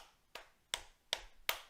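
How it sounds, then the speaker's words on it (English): Four sharp, close hand claps land at a slow, slightly uneven pace, each a crisp isolated slap with quiet between them. "You can clap?"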